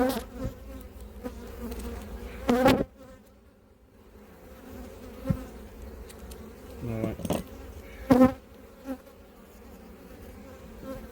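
Agitated honey bees swarm and buzz densely around an open hive with a full slab of brood, a steady close insect drone with occasional louder passes near the microphone.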